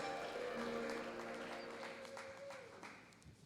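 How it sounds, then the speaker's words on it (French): A church congregation applauding and cheering for the Lord during a service: a steady wash of clapping, fairly faint and continuous, slowly fading, with a voice and sung tones faintly mixed in. "Acclamons très fort pour le Seigneur et reprenons nos places."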